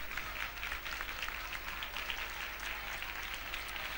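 A church congregation claps continuously through an intercession prayer meeting, a dense, steady patter of many hands that fills the room evenly from start to finish with no pause and no voices standing out.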